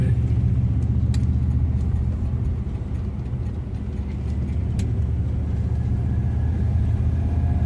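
A classic car cruises on local roads, and a steady low engine rumble with road noise continues throughout at an even level. There are a few faint clicks, and no one speaks.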